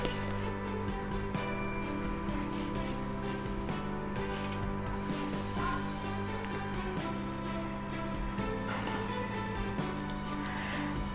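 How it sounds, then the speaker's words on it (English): A stand mixer runs steadily, beating cream cheese, butter and sugar together, a continuous mechanical whirring hum with faint rhythmic clatter, close and even throughout. "mix the 3 ingredients together until it is well combined."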